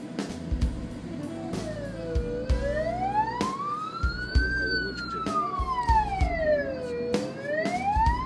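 A wailing ambulance siren sweeps slowly up and down in pitch, loud and fairly close, over Turkish street traffic rumble and scattered knocks.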